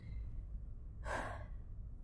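A single deep breath drawn in sharply, a loud gasping inhale lasting about half a second, close and alone with no talk.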